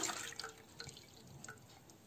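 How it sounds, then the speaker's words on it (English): Coffee mixture with agar-agar pours into a pan in a home kitchen, a faint steady trickle with small drips and splashes, close and quiet, with no talking. "So here I pour the coffee mixture also"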